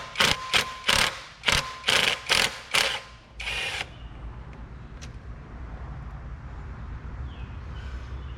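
Ratchet wrench with an H5 Allen socket loosening a bolt on a Pontiac Grand Prix during thermostat replacement: about eight quick, loud ratcheting clicks in bursts, then quieter background noise.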